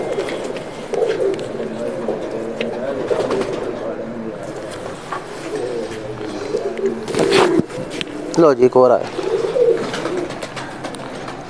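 Soft, low pigeon cooing rises and falls repeatedly beneath someone talking nearby, with a few flutters and rustles in between.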